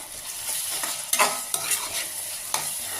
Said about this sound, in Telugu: ఆనియన్స్ అయితే ఫ్రై అవుతున్నాయి.